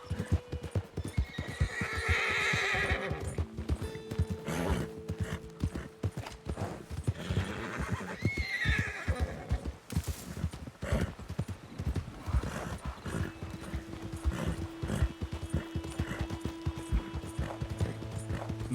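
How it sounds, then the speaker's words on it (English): A horse in a Wild West video game neighs and whinnies while its hooves clip-clop steadily along a road near a bridge, the rhythmic footfalls continuing throughout with mechanical creaks and faint voices beneath. "Careful on your horse. Oh, and careful on my horse, Roach."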